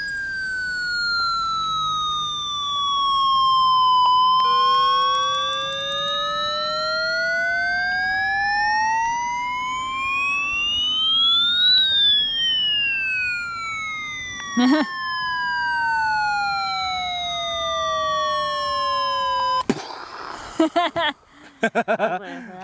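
An electronic alert siren from a Midland HH51 handheld radio wails with its pitch sweeping slowly up and down, with a second tone layered in, ending in clicks and handling noise.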